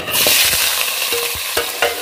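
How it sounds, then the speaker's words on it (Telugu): Onions, green chillies, drumstick pieces and curry leaves fry in hot oil with a steady, loud sizzle, punctuated by several sharp stirring clicks of a spoon against the pan; no voices are present. "మునక్కాయ ముక్కలు, ఇవి వచ్చి కరివేపాకు రెబ్బలు మంచిగా మగ్గించుకుంటున్నాను నూనెలో"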